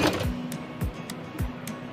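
A sewing machine stitches an umbrella frock in short mechanical runs, several whirring bursts repeating at a steady pace with thumps between them, close and fairly loud with no talking.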